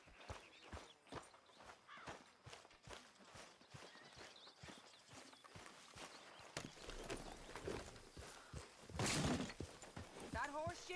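Horse hooves clip-clop in a steady walking rhythm, close and distinct, then give way to louder mixed movement and noise, with people talking over it.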